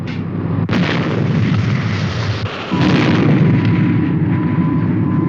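Cannon fire in a puppet adventure show opens with a sharp report and then rolls into a long, loud, sustained booming rumble that fills the whole stretch without any speech.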